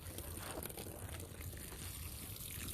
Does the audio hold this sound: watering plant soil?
yes